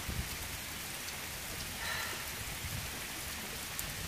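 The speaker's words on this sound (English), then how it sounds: "I don't think it's going to stop raining anytime soon." Steady rain on a hiking trail near a shelter, an even dense patter of drops hitting the ground and surfaces all around, constant and fairly loud, no voices.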